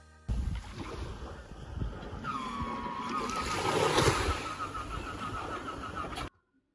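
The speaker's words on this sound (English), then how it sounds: "Water plane." A seaplane moves on open water, its engine drone mixed with rushing spray and wind, loud and close, with a rising whine in the middle before the sound stops abruptly.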